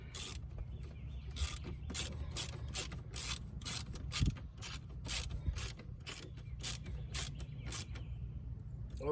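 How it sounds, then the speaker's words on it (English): Hand ratchet clicking rapidly as it tightens bolts on a 1987 Pontiac Fiero GT, a close, steady run of sharp pawl clicks in quick bursts with a low mechanical hum underneath. "it's easier to feel the torque using a ratchet."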